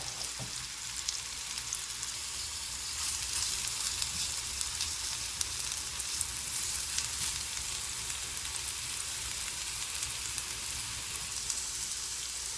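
Jackfruit pieces searing in oil in a pan give a constant crackling sizzle with fine popping spatter, steady and close throughout with no talking.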